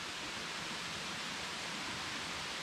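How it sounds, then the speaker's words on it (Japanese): A large waterfall in a Thai national park sends up a steady, faint, broadband rush of falling water with no voices. "こういう滝でございます"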